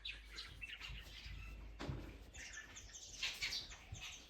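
Small birds chirping and tweeting at Silisiri Lake, with scattered high calls and a brief flutter, fairly faint against a steady low outdoor rumble, no talk.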